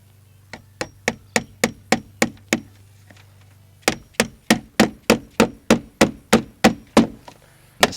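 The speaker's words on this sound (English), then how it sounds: "we're just going to hammer it until it's pulled in." Steady hammer blows ring out as nails are driven into vinyl siding on a garage, two bursts, about eight strikes, a short pause, then a dozen more in an even rhythm, sharp and close.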